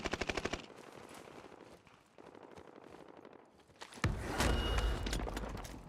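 Rapid automatic gunfire rattles in the Warzone video game, a burst of fast shots up front, then quieter scattered firing, then a loud sustained barrage with crashing impacts toward the end.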